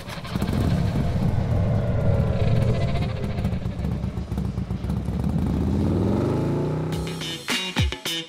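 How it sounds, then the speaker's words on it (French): A motorcycle runs steadily for several seconds with engine tones rising and sliding in pitch as it accelerates, then a burst of sharp clattering noises ends the sequence in a French audio drama. "J'y vais en moto."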